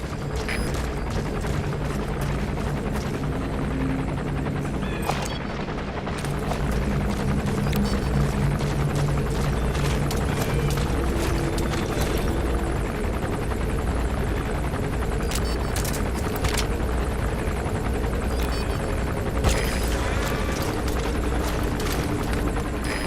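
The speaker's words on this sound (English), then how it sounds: "Looks like the arms dealer's chopper is gonna patrol for the security forces." A helicopter patrols in Metal Gear Solid V: The Phantom Pain, its dense rotor roar steady and loud throughout with a constant low thrum, no talk over it.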